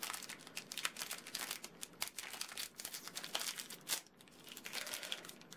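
Plastic toy packaging being opened up close, with dense crinkling and crackling, short tearing bursts, and irregular rustles continuing throughout at moderate loudness.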